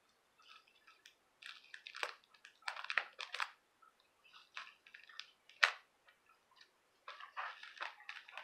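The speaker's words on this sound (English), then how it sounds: "Some scissors here. Let's go ahead and cut it open." Scissors snip and crunch through a parcel from a LEGO DC lot in short bursts of cutting, with pauses between, close and moderately loud.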